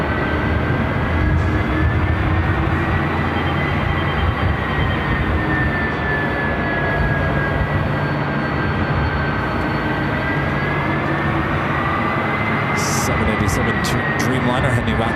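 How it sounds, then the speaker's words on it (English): A Boeing 767 jet at LAX fills the air with a loud, steady engine roar that holds unbroken throughout, with voices talking beneath it. "You're hearing that 767"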